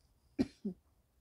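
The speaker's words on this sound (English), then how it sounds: "I'm just constantly coughing and having to clear my throat" Two quick coughs close to the mic, a sharp hacking burst followed by a shorter, throatier one, then quiet.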